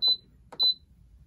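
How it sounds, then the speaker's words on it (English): Two short, high electronic beeps from an Instant Pot control panel as its buttons are pressed to set pressure cooking. Each beep is paired with a soft button click, and the beeps come about half a second apart. "I'm going to click manual or pressure cook and just adjust it to 10 minutes"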